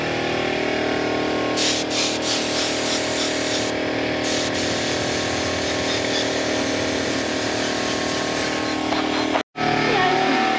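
A paint spray gun hisses steadily and loudly for about nine seconds while spray painting a 25-foot Parker boat under restoration, with a brief cutoff near the end before the spray resumes.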